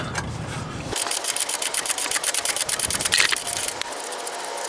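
A rapid, even stream of mechanical clicks comes from a half-inch drive ratchet with an 18mm socket loosening a rear shock absorber bolt on a Jeep Wrangler, close and steady for several seconds.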